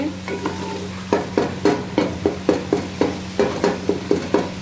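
Turmeric and Kashmiri red chilli powder are stirred and fried in a pan, a steady sizzle broken by a regular run of sharp spoon scrapes, roughly two per second.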